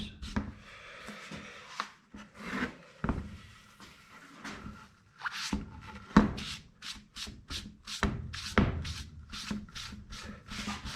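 A relic-style guitar's wooden finish is sanded along the grain by hand, heard as close, rhythmic rubbing strokes that start slow and irregular, then quicken into a steady back-and-forth rasp.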